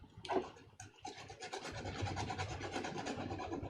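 Steady scratchy rubbing of hand sanding an armor gorget piece with sandpaper, close up and continuous, with a few short pauses between strokes.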